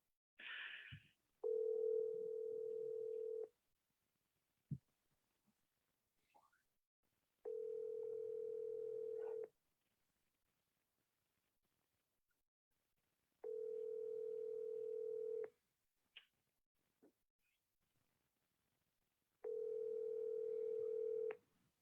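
A telephone dial tone sounds in four steady bursts of about two seconds each, separated by silences, while a call is being placed; no one speaks over it.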